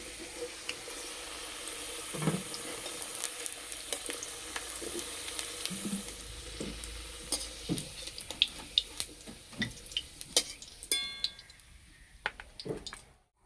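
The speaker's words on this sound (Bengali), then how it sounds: "মাঝে মধ্যে আলুগুলো নেড়ে দেব।" Potatoes frying in oil while being stirred, a continuous close sizzle punctuated by sharp spatula scrapes and knocks against the pan.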